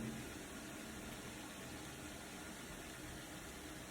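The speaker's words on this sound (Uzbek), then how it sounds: "Mana motorchalar aylanishni boshladi." Small motors inside a Neptun water appliance spin with a steady, low, even whir and faint watery hiss, quiet and unbroken throughout.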